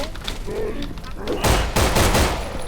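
Gunfire in the zombie video game No More Room in Hell, a dense burst of rapid shots in the second half over a noisy game background, with voices talking.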